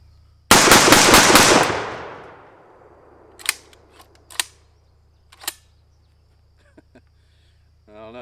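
Panzer AR12 shotgun firing buckshot shells: a quick burst of loud, rapid blasts trailing into a long fading echo, followed by scattered metallic clicks and handling clatter.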